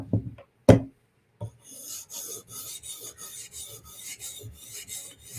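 A Steel Will flipper knife edge is sharpened to reduce the burr, with a few sharp taps and then a series of quick, rhythmic raspy strokes across the stone at close range, with no talk.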